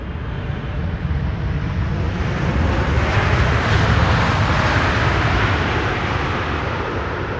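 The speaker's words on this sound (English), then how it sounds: "Typical KLM style landing." A KLM airliner lands on Schiphol's Polderbaan runway with a loud, steady broadband jet roar that swells and then holds, close and without pause.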